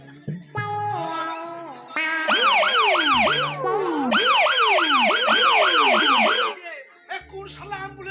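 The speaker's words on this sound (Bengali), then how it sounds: "কোন শালা অ্যাম্বুলেন্সকে খবর দিলে" An ambulance siren wails loud and close, its tone rising and falling in regular sweeps through the middle of the scene, with short tonal bursts before it and quieter sounds after.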